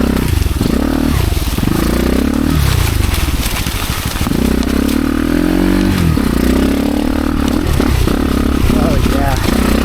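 An X-Pro Storm 150 pit bike engine drones loudly throughout a ride, its revs rising and falling in long sweeps as gears change, with wind buffeting and a rider talking over it.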